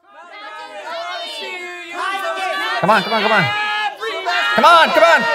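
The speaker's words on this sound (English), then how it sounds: "Start cheering now." An audience cheering and shouting together, overlapping excited voices rising and swelling in loud bursts, with shouted encouragement mixed in.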